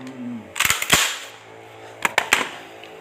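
A gun fires large pellets in two quick bursts of three loud, sharp cracks each, close and punchy, with a brief pause between the bursts.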